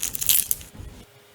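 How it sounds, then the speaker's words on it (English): Crispy Vietnamese egg roll filled with vermicelli, mung bean noodles, carrots and taro, squeezed close to the mic, giving a short burst of dry crackling crunches for under a second that then fades into quiet. "I'm gonna squeeze it so you can hear the crunchiness"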